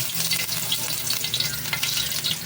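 Ginger frying in a pan for a Filipino home dish, a steady close sizzle with crackling oil and faint stirring, continuous and fairly loud with no talking.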